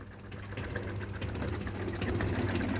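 A steady, faint engine rumble from Gottlieb Daimler's 1885 motorcycle, an early internal combustion motor built into a cycle, idles evenly without any voices.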